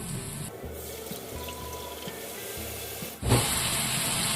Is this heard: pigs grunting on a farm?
no